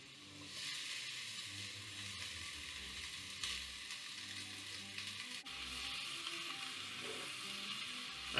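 Sliced white mushrooms and broccoli rabe fry in a pan with a soft, continuous sizzle. Light stirring scrapes now and then, and the sizzle holds an even, moderate level with no one talking.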